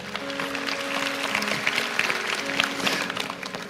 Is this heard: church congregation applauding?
yes